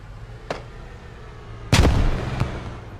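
Grenade launcher fire in the military shooter game Squad: a faint pop, then a loud sharp blast with a rumbling tail and another crack shortly after, heavy low boom beneath.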